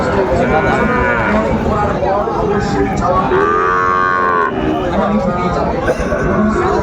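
Sahiwal cattle moo loudly at a market in Dinajpur amid a busy crowd, with several drawn-out lowing calls rising over constant chatter and voices nearby.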